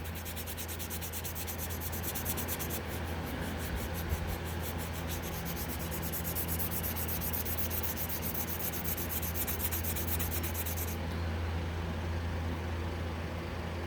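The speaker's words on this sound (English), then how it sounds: "And then I'm just going to use the rubbing process." Steady abrasive rubbing of rust off a metal part, a continuous close scraping that stays even throughout with no talking.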